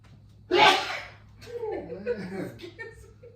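A single loud, abrupt human sneeze indoors in a home kitchen, followed by a few seconds of people talking.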